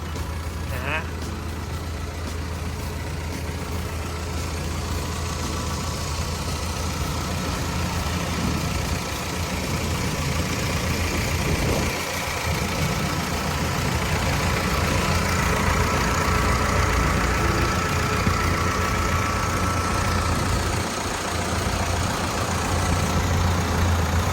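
The heavy diesel engine of a new Sakai SV512DF-E vibratory road roller idles steadily with a low, continuous rumble that stays even throughout, close by and fairly loud.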